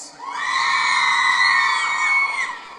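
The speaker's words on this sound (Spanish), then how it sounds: "A ver, un grito a las mujeres." Women in a concert crowd scream together on cue at a band's show in San Francisco el Alto, a loud sustained high-pitched roar rising quickly, holding about two seconds, then fading.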